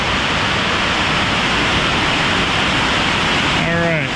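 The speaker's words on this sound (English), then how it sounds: "Waterfalls are waterfalls." A man-made waterfall pouring steadily, a loud, broad rushing hiss with no pauses, close by and dominant, with a brief tonal chirp near the end.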